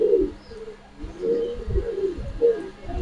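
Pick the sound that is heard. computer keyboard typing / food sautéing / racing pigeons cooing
racing pigeons cooing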